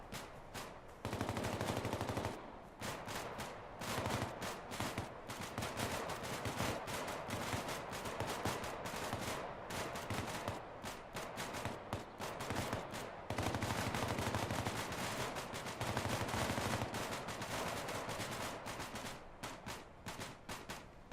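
Sustained gunfire in a squad training video game, dense overlapping rifle shots and bursts filling the whole stretch with a steady, loud barrage and no pauses.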